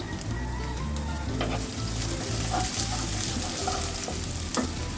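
Chopped onion and green chili sizzle steadily in a small amount of hot oil for spinach with small shrimp, with occasional stirring clicks throughout and no talking.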